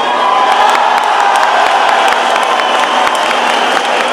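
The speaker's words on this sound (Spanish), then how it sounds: "Ahora aplaudí más fuerte." Large crowd at an opening ceremony clapping and cheering together, a loud, continuous roar of applause mixed with shouts and whoops throughout.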